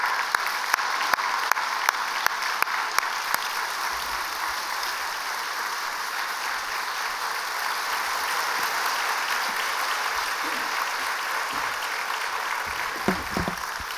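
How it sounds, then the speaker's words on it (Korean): A church congregation gives a sustained round of applause to welcome a pastor, a dense even clapping from a large crowd that continues steadily throughout with a few sharper claps near the start. "우리 클리프 맥아들 목사님 나오실 때 큰 박수로 우리 환영하실까요?"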